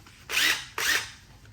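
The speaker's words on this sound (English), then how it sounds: "I will insert the power drill" Two bursts of a power drill whirring while driving a jack on a Fisker Ocean One, each lasting about half a second with a short pause between, close and loud, no talking.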